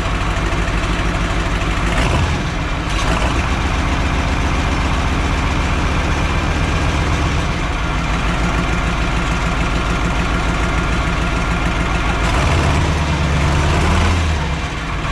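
A John Deere 5020 tractor fitted with a Cat 3150 V8 engine idles loud and steady close by, its low, even diesel rumble running throughout with slight changes in tone partway through.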